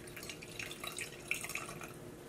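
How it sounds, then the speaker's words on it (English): Rosé wine from a box trickles into a glass in a quiet room, a faint thin splashing stream with a few brighter drips over about two seconds. "What I'm gonna do is pour a little bit so you can see."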